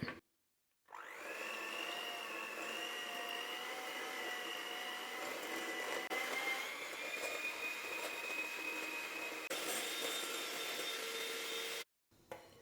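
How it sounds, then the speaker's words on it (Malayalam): Whipping cream and powdered sugar being beaten with an electric mixer, a continuous whirring motor hum that starts after a short pause, runs steadily for about eleven seconds, then cuts off. "ഇതിലേക്ക് 1/4 കപ്പ് പൗഡർ ഷുഗർ ചേർത്ത് കൊടുക്കാം. ഇനി നമുക്കിതൊന്ന് ബീറ്റ് ചെയ്തെടുക്കാം."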